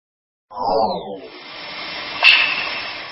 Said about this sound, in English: is apparently produced by the Aurora Borealis, the Northern Lights.